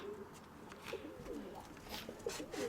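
Pigeons coo softly nearby, a few low, throaty, repeated calls over faint background noise.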